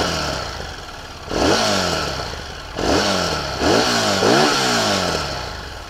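A Harley-Davidson Street Rod 750 motorcycle engine runs close by, idling between three sharp throttle blips, each rev climbing quickly and then falling back to a rumbling idle.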